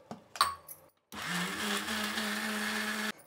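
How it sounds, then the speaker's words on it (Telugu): An electric mixer grinder whirs steadily for about two seconds, grinding peanut chutney after a few brief clatters of setup, then cuts off abruptly. "ఇప్పుడు చట్నీ మిక్సీ పట్టేద్దాం."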